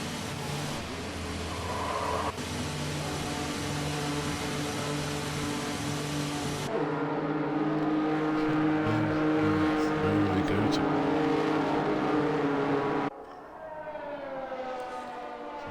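Ferrari Formula 1 cars exit the pit lane at Silverstone in a racing video game, a loud, steady, high engine whine that shifts pitch as the cars accelerate, continuous throughout before dropping off near the end.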